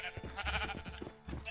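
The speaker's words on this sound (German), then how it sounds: "Ihr Schafe seid ja schon gewachsen." Minecraft sheep bleat in a short burst of wavering, nasal calls, close and clear over a faint game background.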